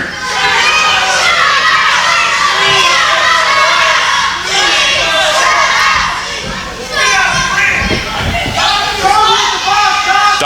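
A loud wrestling show crowd chanting and shouting in rhythm, voices layered in a dense roar that swells and dips, with an announcer's voice under the din.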